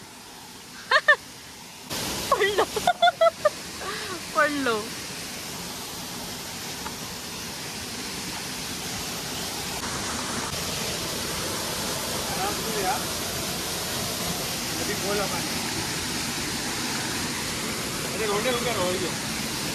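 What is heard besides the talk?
Chander waterfall rushing water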